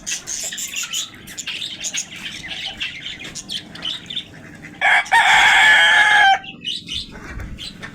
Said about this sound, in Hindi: क्या मुर्गा ना चीख रहा है यहाँ पे खड़े होके